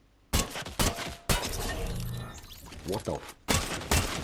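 Gunfire in the video game Ballistics: loud, sharp shots crack out in a quick group of three, then two more follow after a pause, with a voice briefly reacting between them.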